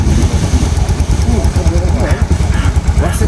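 Motorcycles rumble on a mountain road in Ilam, Nepal, their engines loud and close in a continuous idling drone.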